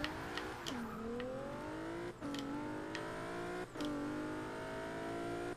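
A race car engine in Forza Motorsport 2 at a drag-style race start against a Viper revs hard, climbing in pitch through a sequence of rising pulls broken by quick gear-shift dips.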